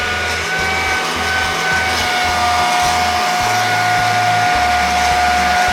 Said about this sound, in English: Is that a special blow dryer for chickens and ducks?